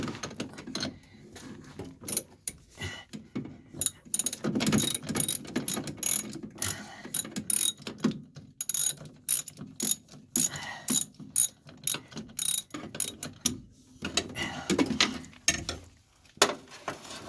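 A hand ratchet wrench loosening a bolt during a manual brake installation on a vehicle, clicking rapidly and repeatedly in close, loud bursts with brief pauses between strokes.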